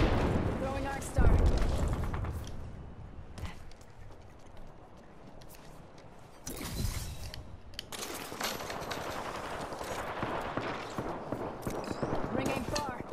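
In an Apex Legends firefight, an arc star grenade detonates amid sharp explosive bursts and rattling gunfire, with loud blasts near the start and middle over a busy background of game noise.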